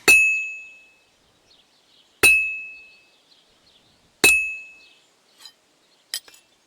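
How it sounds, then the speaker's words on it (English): A blacksmith's hammer striking hot metal on an anvil at a forge in Kingdom Come: Deliverance II, three loud, ringing clangs about two seconds apart, each decaying slowly, followed by lighter taps. "I have to hammer it more evenly."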